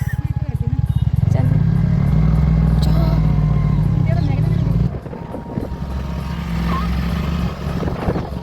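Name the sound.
two-wheeler engine revving as she starts riding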